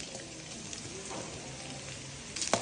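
Shallot vadagam sizzles in hot oil as a tempering for paruppu kulambu, a faint steady frying hiss that swells into a louder crackling burst near the end.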